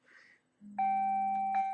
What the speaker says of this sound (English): Excuse my phone.